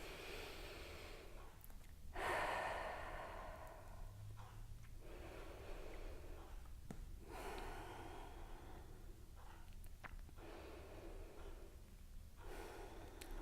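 Slow, deep yoga breaths come in a quiet room, long drawn inhales and exhales in an even rhythm, soft and close with pauses between them.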